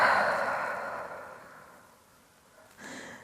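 A long, breathy exhale during a yoga breathing exercise, loud at first and slowly fading over about two seconds before a fresh breath begins near the end.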